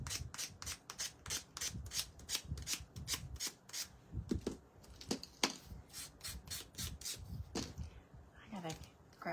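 Rough sandpaper rubs back and forth over a painted craft piece in quick, uneven strokes, close and soft, with someone talking quietly over it.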